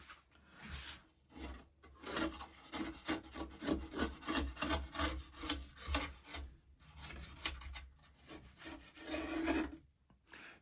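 A small blade scrapes dried plaster off the steel face of a trowel in quick, rhythmic rasping strokes, fairly close and faint, with short pauses between bursts.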